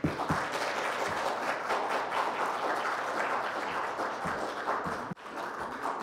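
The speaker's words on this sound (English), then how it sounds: "Stop clapping." Scattered applause rises in a council committee chamber right after a vote carries six to two, a steady wash of clapping heard at moderate distance and somewhat faint, with little talk.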